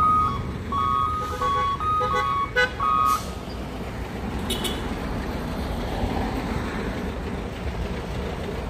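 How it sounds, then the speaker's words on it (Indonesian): A truck's reversing alarm beeps repeatedly in an even rhythm for about three seconds over a loud engine rumble, then stops while the heavy engine noise carries on. "Truk ini sudah mundur ya."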